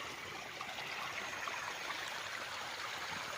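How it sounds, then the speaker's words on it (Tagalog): A small stream on a farm lot in Siniloan, Laguna flows with a steady, soft watery rush, faint and continuous throughout with no voices. "May sapa siya dito sa loob"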